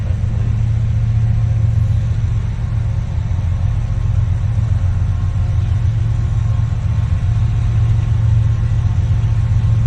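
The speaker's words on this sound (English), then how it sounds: "Oh, it's throttling up that point." A coal train locomotive throttles up, its diesel engine producing a steady, loud low rumble with a deep droning hum that holds throughout without pause.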